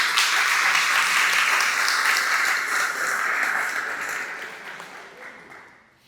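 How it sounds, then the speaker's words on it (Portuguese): A church congregation applauding together, loud and dense, a full wash of clapping that holds strong and then gradually thins and fades out toward the end, with no speech over it. "Diz amém e dá um aplauso ao Senhor Jesus."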